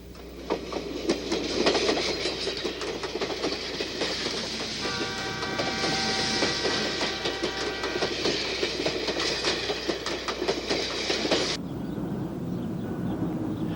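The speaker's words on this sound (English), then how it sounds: "they can board the old steam haul train, which has been in operation since 1898" Old steam train on the White Pass route out of Skagway, Alaska, rolling past with steady clickety-clack of wheels on rail, a sustained horn-like tone midway, then fading to quieter ambience near the end.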